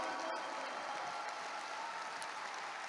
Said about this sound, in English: Can we give our Vietnamese brothers a round of applause today?